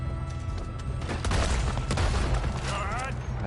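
Gunfire in a Red Dead Redemption 2 shootout: a loud cluster of cracking shots and booms against a steady low rumble, with a character's voice talking near the end.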